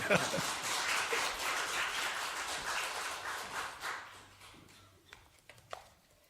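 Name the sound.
audience clapping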